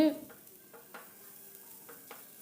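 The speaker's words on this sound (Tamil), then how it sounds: "இந்த கீரை வந்து நல்லா வதங்கணும் அதனால் திருப்பையும் நம்ம வந்து நல்லா வதக்கிக்கிட்டே இருக்கணும்" Vallarai greens being stirred and sautéed in a pan for poriyal, with a soft continuous sizzle and a few light scraping strokes of the spoon, fairly quiet and steady, no talking.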